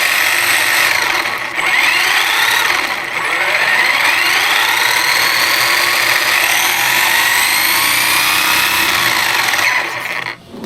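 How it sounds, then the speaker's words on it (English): A Traxxas Jato 4x4 RC car running on a 3S battery, with freshly adjusted gears, gives a loud, steady, high-pitched drivetrain whine close by, rising and falling smoothly in pitch for about ten seconds before cutting off. "I just want you guys to hear how smooth it actually sounds when it's going now."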